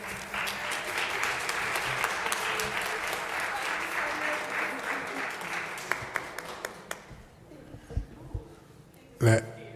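Applause for students at a school board meeting, dense clapping for about six seconds that thins into scattered claps and fades, followed by a brief bump of handling or a voice near the end.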